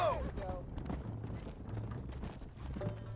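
Horse hooves clip-clop steadily across dirt in the Red Dead Redemption video game, a close rhythmic trotting with a brief whinny near the start, alongside music and someone talking over the hoofbeats.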